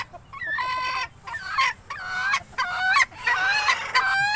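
Japanese bantam hens clucking and calling in short, bright bursts with brief pauses between, close by with no one speaking.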